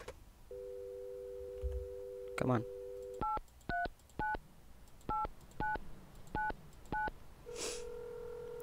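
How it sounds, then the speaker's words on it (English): A telephone in the Mon Bazou video game gives a long tone, then dialing beeps and a run of short, evenly spaced busy-signal pulses, clear and close, with one brief muttered word. "Alright, let's give Mom a call this early in the morning."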